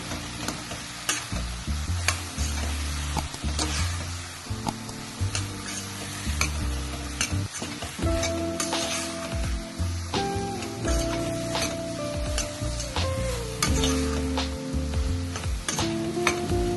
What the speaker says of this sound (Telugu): కలుపుకొని కొంచెం సేపు ఆయిల్లో వేగనివ్వాలి.